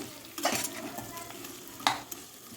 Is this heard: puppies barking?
no